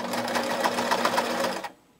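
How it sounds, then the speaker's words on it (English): A sewing machine stitches down a knitted diamond eyelet wrist purse in a fast, even rhythmic whir that runs steadily and close before stopping abruptly, followed by a short click. "since I've got my machine and I've gone this far, I'm gonna sew down"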